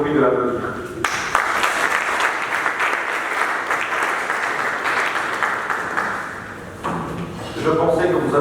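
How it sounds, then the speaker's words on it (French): Applause breaks out from the audience at a national eloquence competition, starting abruptly after a voice and holding as a dense, steady roar of clapping before a speaker resumes over its tail. "je vous prie de l'applaudir"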